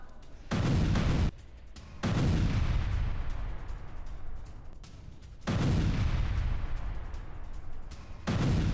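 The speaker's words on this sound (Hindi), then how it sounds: "लेबनान के अंदर तक इजराइल की एयर स्ट्राइक।" Israeli air strikes hit Hezbollah posts in Lebanon: several heavy booming blasts, each followed by a long rumbling roar, with short quieter gaps between them.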